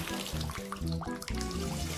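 Water runs steadily from a tap into a birth pool, a continuous close splashing gush with slight pulsing variations throughout.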